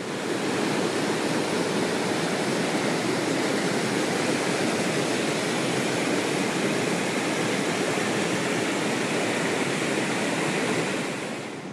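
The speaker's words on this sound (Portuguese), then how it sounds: "Dá pra ver lá ao fundo a cachoeira maior." A waterfall on a river at Cataratas dos Couros in Chapada dos Veadeiros, Alto Paraíso de Goiás, roars nearby in a loud, unbroken rush of falling and flowing water with no talk.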